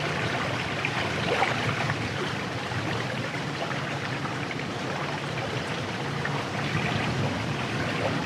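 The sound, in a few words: waves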